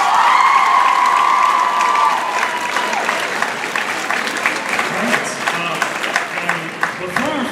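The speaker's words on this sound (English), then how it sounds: "big round of applause for us" A large crowd at a senior recognition event applauds steadily, the clapping dense and sustained throughout, with scattered cheers rising above it.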